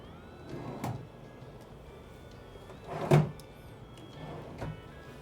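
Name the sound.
big dresser drawers being opened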